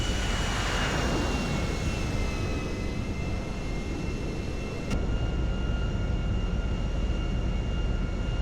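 DC-9-15 airliner in GTA 5 on final approach with gear down, its jet engines a steady loud roar with a faint whine, broadband and continuous throughout, no voices.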